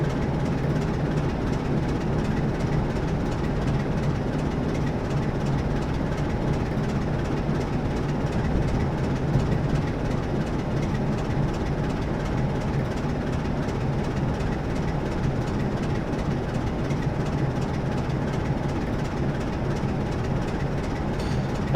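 A Class 47 diesel-electric locomotive hauling a rake of Mark 1 coaches in a train simulator, with a steady low engine drone and rolling rumble nearing Battersea Park, continuous and fairly loud without talk.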